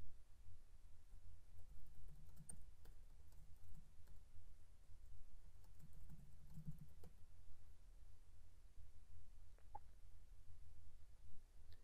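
Light clicking keystrokes on a computer keyboard while information is typed into a form, scattered quiet taps over a steady low hum, no voices.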